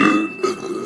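A loud, close burp lasts about a second. It has a voiced, croaking tone that dips briefly and then carries on, with no other sound around it.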